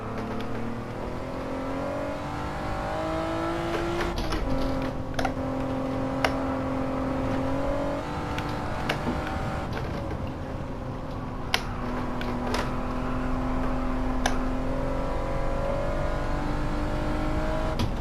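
A race car engine in Gran Turismo 7 revs and drifts through corners held in third gear, its steady droning pitch rising and falling with occasional sharp clicks, loud and without talk.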